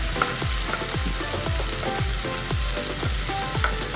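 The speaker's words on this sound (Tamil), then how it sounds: "ஸோ ப்ரான் வந்து நல்லா அதுவும் ஃப்ரை ஆகிடுச்சு." Prawns fry in a kadai pan with a constant loud sizzle, broken by regular rhythmic scrapes and stirs roughly every half second, close up with no talking.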